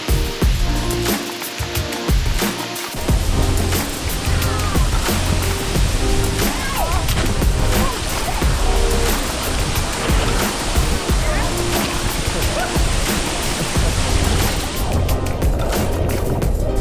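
The Namuang waterfall on Koh Samui in Thailand roars as a loud, constant broadband rush, close by and unbroken for the whole stretch, with wind buffeting near the start.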